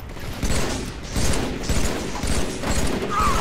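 Gunfire in the video game Halo 3 comes as loud, close bursts of rapid shots in repeated volleys, with mechanical clatter between them.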